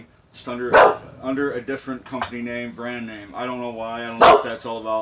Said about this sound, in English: Anyway, excuse my dog.